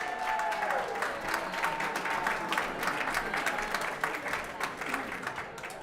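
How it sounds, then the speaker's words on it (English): An audience at a 2022 art auction applauds the winners of a golden raffle item with steady, full clapping that carries on for several seconds, with faint voices mixed in. "Would you give the Wymans a huge round of applause?"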